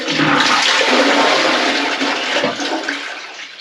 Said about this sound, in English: it's still flushing with a bucket